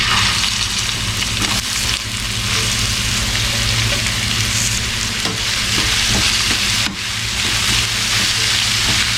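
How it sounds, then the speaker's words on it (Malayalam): Sliced onions fry in coconut oil in a pan for beef dum biryani, giving a loud, dense, continuous sizzle with crackles and occasional stirring scrapes, close up and with no voices. "അരിഞ്ഞു വെച്ചിരിക്കുന്ന സവാള ഇട്ട് കൊടുക്കാം."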